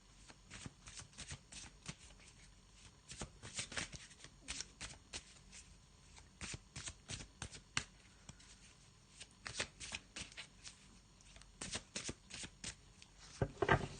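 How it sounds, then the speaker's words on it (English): Tarot cards being shuffled in repeated crisp riffling bursts, close to the microphone, steady and rhythmic with brief pauses between shuffles. "Let's have a shuffle and see what we've got going on."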